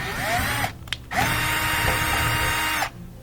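A power drill backs screws out of a front-load washing machine's panel, whining steadily in two close, loud runs split by a brief pause, with no talking.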